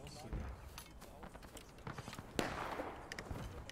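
Black-powder musket fire at a Civil War reenactment event: scattered sharp cracks, some near and some distant, over shuffling movement and voices talking.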